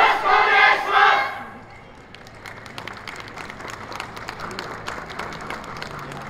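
A crowd at an outdoor yosakoi dance festival cheers loudly at first, then settles into steady applause and clapping that continues throughout, moderately near.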